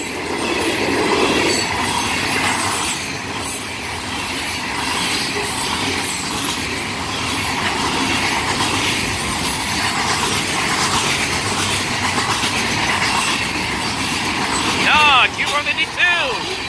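CSX freight train Q452 rolling past on the Miami subdivision, a continuous rumble of wheels and cars with rattling clatter and brief high wheel squeals near the end, close and loud throughout.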